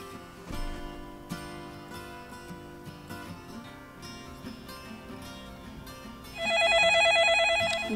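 A phone plays a tonal ringtone melody under a busy musical game soundtrack, then a loud, bright electronic ringing tone takes over for the last stretch.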